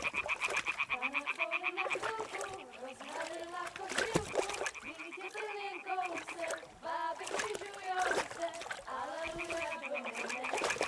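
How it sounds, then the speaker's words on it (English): A thrown stone lands in a pond in Kingdom Come Deliverance II, making one brief splash among steady croaking frogs and other game ambience. "Throw a stone in the water near her to lure her away."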